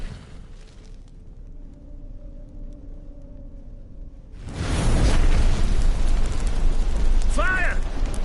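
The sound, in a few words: fire and flames from The Witcher 3 video game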